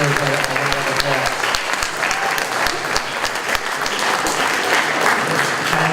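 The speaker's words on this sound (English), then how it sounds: "all of these students, not just those 3 teams, deserve a round of applause" Audience applauding students at a high school nanotechnology presentation event, sustained dense clapping from a crowd at moderate distance that carries evenly throughout.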